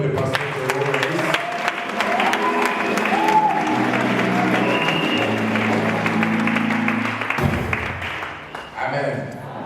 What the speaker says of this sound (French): Acclamons l'Éternel pour les pasteurs de l'Église.